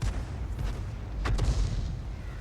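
Tank cannon shots in World of Tanks, with a booming blast near the middle over a steady low rumble of battle noise, plus fainter distant shots around it.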